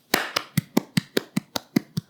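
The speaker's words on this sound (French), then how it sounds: "Clément, on applaudit pour lui." Roughly ten slow, evenly spaced claps of small-group applause for Clément, a sound engineer, sharp and close with short gaps, no talk over them.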